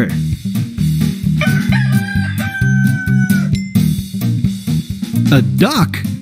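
A rooster crows near the end of the clip in a children's animal puzzle game, over repetitive, upbeat background music.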